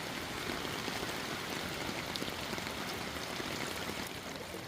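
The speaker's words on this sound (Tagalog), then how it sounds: "Lumalakas na naman yung ulan, no?" Heavy typhoon rain pouring steadily over a flooded village, a dense continuous hiss of drops drumming on surfaces all around, with no voices.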